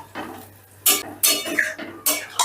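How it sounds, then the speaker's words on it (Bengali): A spoon scrapes and knocks against a pan while soybean chunks and boiled chana dal are mixed together, giving a few quick, loud scraping strokes in uneven bursts. "ডালটাও বেশ ভালো করে নেড়েচেড়ে মিশিয়ে দিচ্ছি।"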